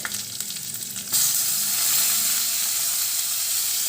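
Rice and ingredients fry in a hot pan, giving a steady loud sizzle that swells sharply about a second in as food hits the oil, then hisses on continuously.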